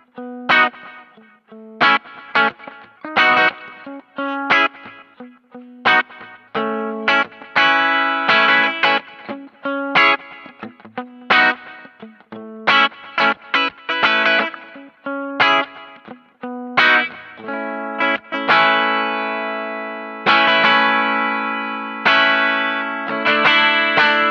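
An electric guitar on its bridge pickup plays through a small amp straining for a clean tone, giving a choked, gritty sound. Strummed chords and short bursts come in a loose rhythm, with no talking.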